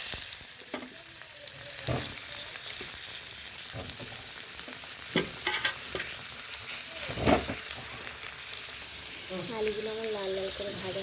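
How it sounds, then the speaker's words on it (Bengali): Potatoes frying in oil in a kadai, with a steady close sizzle running throughout, broken by stirring scrapes and clatters, plus brief bursts near the end. "এদিকে আমি কড়াইতে আলুগুলো ভেজে নেব।"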